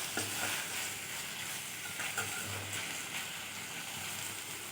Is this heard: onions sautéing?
yes